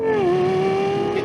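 A Lexus supercar engine revs loud and sustained with a steady, slightly wavering tone, rising briefly at the start and then holding, close and alone.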